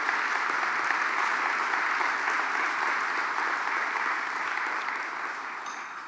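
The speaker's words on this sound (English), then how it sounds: "So please give Ben a round of applause." Audience at a luncheon breaking into sustained, even applause, a dense wash of many hands clapping that holds steady and then slowly thins out toward the end.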